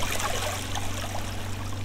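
Water in Minetest flows and trickles steadily, a continuous near splashing stream under a low hum, with no voices.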